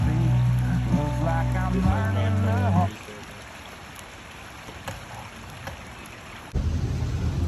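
Rain falls on a rainy day in the mountains as a steady, soft broadband hiss. It follows a few seconds of louder tonal sound, and a low rumble swells near the end.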